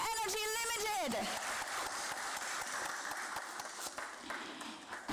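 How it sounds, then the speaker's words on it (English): Audience applause at a stock exchange listing ceremony for a green energy company, a sustained dense clapping wash following a short tonal chime at the start, moderately loud and continuous. "can we have a thunderous round of applause for Saatvik Green Energy Limited?"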